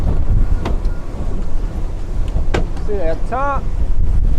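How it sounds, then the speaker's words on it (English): Strong wind buffets the microphone on a 2019 Tahoe 2150 center-console boat with a Mercury 225 HP outboard heading into it, a loud continuous roar with a few sharp gusts, while someone speaks briefly near the end. "Now we're gonna put this right into the wind. You can probably hear it blasting."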